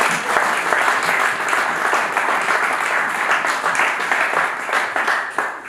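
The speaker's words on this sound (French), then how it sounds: "Acclamons pour la gloire de Dieu." A church congregation applauds continuously and loudly for several seconds, with dense, even clapping from many hands that does not let up.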